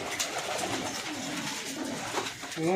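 Pigeons coo in a loft of high-flying birds, the soft throaty calls repeating close by over a steady background hiss, with a louder burst of cooing near the end.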